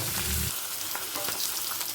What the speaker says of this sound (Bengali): মাছটা আমি তেলেতে দিয়ে দিয়েছি দু পিঠ ভালো করে ভেজে নিয়ে তুলে রাখবো